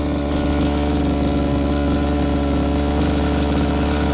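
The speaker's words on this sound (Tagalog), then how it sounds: "So, apurahin na natin grass cutter para marami tayong mabawas." A gas-powered grass cutter runs steadily at close range, a loud continuous buzzing engine drone with no breaks and no voices.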